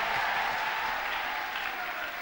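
Audience in a church service applauding, a steady dense wash of clapping that fills the whole stretch at even loudness with no voices standing out.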